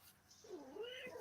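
A cat lets out one drawn-out, wavering meow nearby, fairly quiet, with a faint room background and no talking over it.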